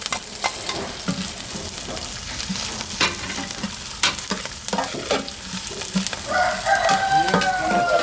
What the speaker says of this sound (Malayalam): പച്ചമുളക് വാടിയിട്ടുണ്ട് നമ്മളിനി വെളുത്തുള്ളി ചേർത്ത് കൊടുക്കുകയാണ്